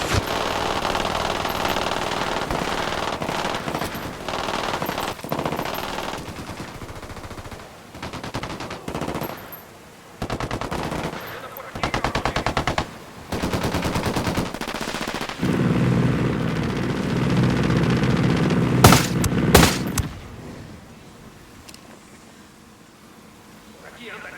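Gunfire in Ghost Recon Wildlands: bursts of automatic weapon fire interrupt stretches of quieter game sound, with one dense loud burst near the end, and voices talking between the shots.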